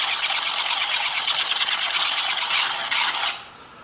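A knife stroked across an 800 grit sharpening stone with light pressure, making a continuous close, hissing rasp with faint stroke pulses before it stops abruptly near the end.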